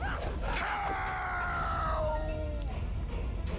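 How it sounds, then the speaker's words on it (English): A drawn-out scream of pain from a character in the video game Neverwinter Nights 2, a wavering cry that slides downward over a couple of seconds against steady game background noise. "that scream of pain"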